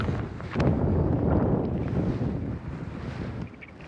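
Wind blowing on a lake during a fishing trip, a loud, steady rush buffeting close to the microphone and easing slightly toward the end, with no voices.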